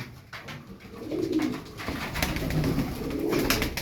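A blue double mirror tail pigeon coos in soft, repeated low phrases close by, over light background rustle and noise.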